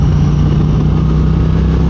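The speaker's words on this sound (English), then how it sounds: "this is the best sounding stock exhaust I've ever owned" A 2022 Speed Twin motorcycle with its stock exhaust idling steadily at close range, a low throbbing exhaust note with a constant hum and no voices.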